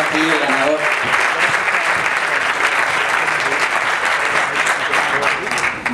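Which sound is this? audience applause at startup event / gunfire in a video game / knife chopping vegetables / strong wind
audience applause at startup event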